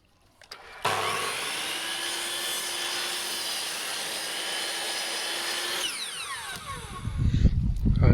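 A power tool cuts through pergola timber, a steady loud buzzing run of about five seconds that ends abruptly, then rustling handling noise follows.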